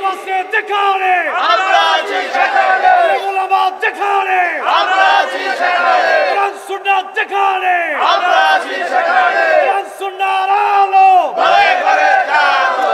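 A large crowd at a religious rally roars a takbir chant in unison, loud, repeated rising shouts in waves that fill the whole stretch, dense and close.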